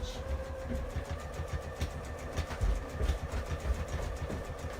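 A sewing machine top stitching and back stitching track pants, a steady close mechanical whir with rapid needle rhythm running throughout.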